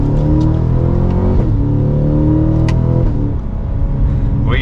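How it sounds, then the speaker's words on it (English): A 2023 Cadillac CT5-V Blackwing pulls hard from second gear, its engine roaring loud and steady with rising harmonics, and brief exhaust crackles pop near the end. "We got some pops in that exhaust."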